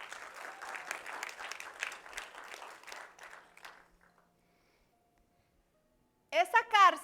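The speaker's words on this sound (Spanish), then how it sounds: "¿Le da un aplauso al Señor?" Steady applause from a church congregation for a few seconds fades into silence, then a brief burst of louder sound at the end.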